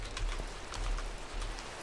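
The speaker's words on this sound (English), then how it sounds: "I hear bugaboos and rain out there." Steady rain falls in the video game Minecraft, an even, faint hiss of drops with no talking.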